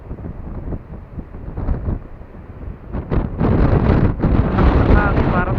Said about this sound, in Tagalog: Ang hangin, parang tinatangay ako.